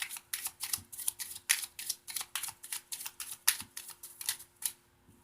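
Rapid, crisp riffling taps of playing cards being overhand shuffled by hand, in quick rhythmic bursts, close up with no talking.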